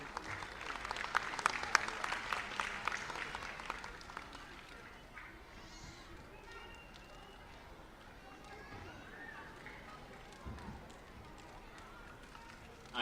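An audience at a government summer camp closing event in Ahmedabad applauds to welcome a state minister, a burst of clapping that fades after a few seconds into quieter crowd murmur and movement.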